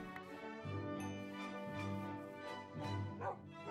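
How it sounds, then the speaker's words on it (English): Dogs in the Minecraft video game bark and whimper in a few short bursts, a steady game background running under them. "No, don't touch my dogs. Don't touch my dogs."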